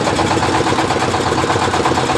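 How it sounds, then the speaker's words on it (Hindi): A pump set engine runs loud and close, holding a steady, even rumbling chug with a fast regular pulse and no voices over it. "ये देखिए इंजन और इंजन चल रहा है मेरा।"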